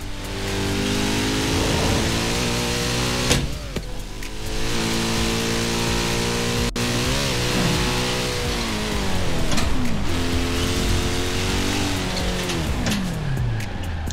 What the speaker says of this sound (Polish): Kurde, ten samochód fajnie brzmi.